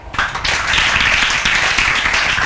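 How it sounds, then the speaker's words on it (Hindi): A classroom group claps for a double medal winner, dense brisk clapping sustained and close, filling the moment. "डबल मेडल के लिए बेहतरीन तालियां"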